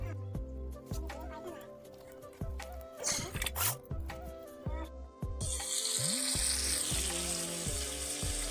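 Fish belly fries in a pan, a steady sizzle running under voices and other sounds that turns louder and more hissing partway through.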